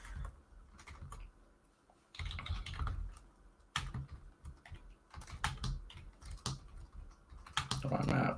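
Rapid, irregular clatter of a computer keyboard being typed on while writing Python code, bursts of keystrokes near and fairly loud, with soft talk in places.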